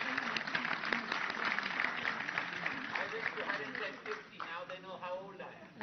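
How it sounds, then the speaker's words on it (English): Audience applause welcomes a guest at the 1st Himalayan Film Festival, a dense steady patter of clapping through most of the stretch that thins out near the end as voices and a little music-like tone come through. "Huge round of applause."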